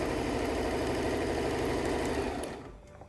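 A Singer Tradition 2263 sewing machine runs a straight stitch with a steady, close mechanical whir and rapid needle chatter, then winds down and stops near the end.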